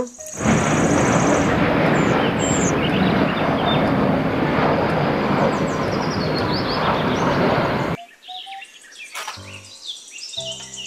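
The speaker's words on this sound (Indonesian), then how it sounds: "pesawat terbang." A toy airplane gives off a loud, steady electronic jet-like roar for several seconds, with chirpy beeping tones layered on top, then switches abruptly to a short plinking melody.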